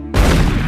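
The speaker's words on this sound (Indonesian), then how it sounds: "Pada akhirnya, Alonzo lah yang menembak Roger" A gunshot in the 2001 crime film Training Day, a single abrupt heavy boom that hits hard and decays into a dense rumbling tail over under a second.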